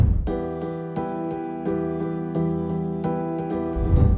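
Lush progressive house synth chords ring out in a steady progression, washed in reverb with delay repeats blurring the attacks and lingering between changes.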